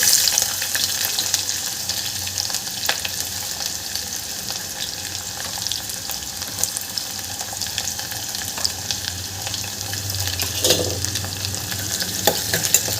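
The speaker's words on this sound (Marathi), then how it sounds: "कांदा आपल्याला छान परतून घ्यायचा आहे गोल्डन होतपर्यंत" Onion sautéing with ginger-garlic paste in a pan for a Marathi brinjal-potato curry gives a steady, fairly loud sizzle and fry with scraping stir strokes throughout, and no voices.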